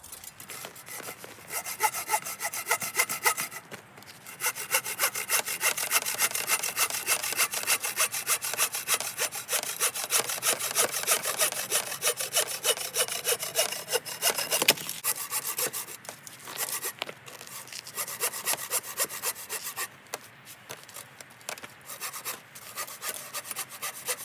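A saw works steadily through a frozen log outdoors in sub-zero cold, rasping in continuous back-and-forth strokes close by, with a few brief pauses between runs and no talking.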